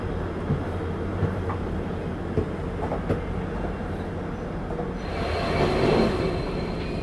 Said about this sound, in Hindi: ट्विन डीजल लोकोमोटिव के साथ सिलचर गुवाहाटी एक्सप्रेस।